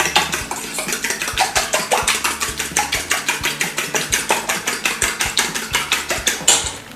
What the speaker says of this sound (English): Give that a little bit of a whisk. I'm using a fork, it's a lot more easier.